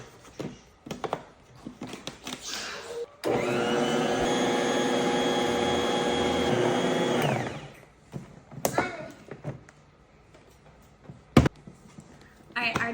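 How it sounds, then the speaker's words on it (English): A stand mixer runs loudly with a steady motor whine for about four seconds as it mixes sourdough croissant dough, with quieter kitchen clatter and handling noises before and after. "We're gonna put this on our stand mixer and mix for about 5 to 7 minutes."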